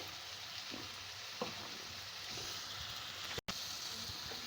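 Masala with green chilies for chicken biryani fries in a pan, giving a steady, soft, continuous sizzle with occasional faint stirring scrapes, no voices over it.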